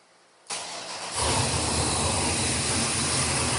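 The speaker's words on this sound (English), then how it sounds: "I'm going to fire this thing up and show you how this thing runs" An LS3 525 hp V8 crate engine cranks briefly, catches and fires up, then settles into a loud, steady running rumble close by.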